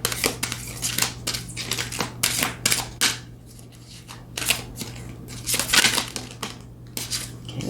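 Energy Oracle deck cards are shuffled in quick, crisp bursts of riffling and snapping, repeated over and over at close range with no talk.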